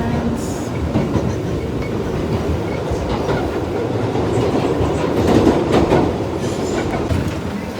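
A New York City subway train rumbles along with a constant loud roar, rattling carriages and faint rhythmic wheel clatter throughout the ride.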